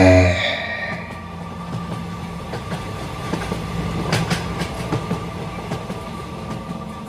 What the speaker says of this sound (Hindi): रात का वो एक्सप्रेस ट्रेन तब काफी तेजी से एक ब्रिज को क्रॉस कर रहा था।